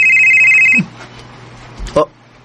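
A cellphone rings with a steady electronic tone that cuts off abruptly after under a second, followed by a quiet room with a few brief thumps and a short sharp sound.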